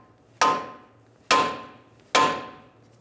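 Three sharp, loud hammer blows strike a front lower control arm on a 2000-2007 Ford Taurus, evenly spaced about a second apart, each ringing metallically and fading without any talk.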